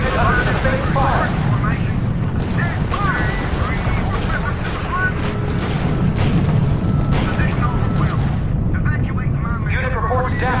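Muffled booms and artillery-style explosions thud repeatedly through a battle in the strategy video game R.U.S.E., layered over continuous combat noise while a radio-style voice reports in.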